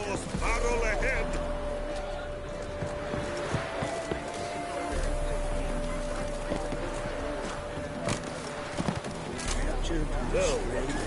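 Rhythmic clip-clop of horse hooves in The Witcher 3, steady and moderately close, with a voice talking over it and a tonal hum underneath.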